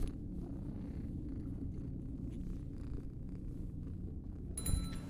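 A black cat in a horror video game purrs steadily and close, a continuous low rumbling purr with no speech, ending in a brief sharper noise.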